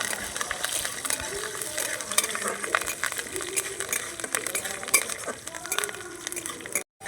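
Curry leaves, mustard seeds and chana dal stirred in a kadai for a tadka: a steady close sizzle threaded with scraping clicks of the spoon, running evenly before cutting off abruptly at the end.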